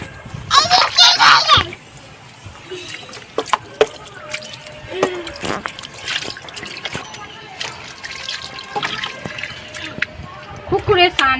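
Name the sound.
water splashing while bathing in a pond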